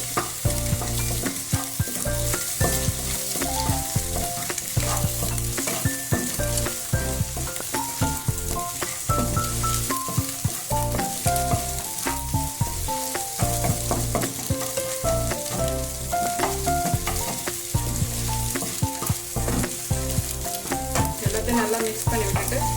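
Egg fried rice with added pepper stirred and tossed in a hot pan, a steady sizzle of frying under continuous scraping and clattering of the utensil, close and loud throughout with no talking.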